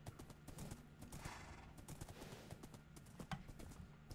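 Horse hooves clip-clopping in Minecraft, a video game with a Lion King mod, a quick repeated run of clacking steps, fairly faint and steady, with a few sharper knocks near the end.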